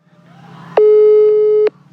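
A telephone call tone sounds once as a single loud, steady beep lasting about a second, preceded by a faint murmur and followed by quiet.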